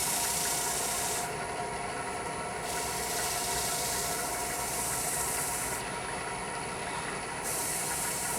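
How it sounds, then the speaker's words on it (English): Deft sanding sealer is applied to a wooden pocket mirror turning on a lathe at about 600 rpm, making a steady, close rubbing hiss over the continuous hum of the machine. "Now we come in with a little bit of the Deft sanding sealer."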